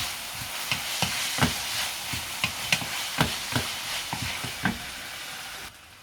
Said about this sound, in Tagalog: Lutuin natin ang bacon hanggang sa magiging golden brown.